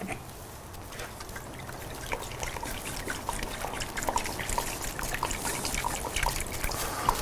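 Rice wine vinegar and soy sauce pour into a dish for gyoza dipping sauce, a soft trickling and dribbling stream that grows slightly busier over several seconds, close and quiet with no talk.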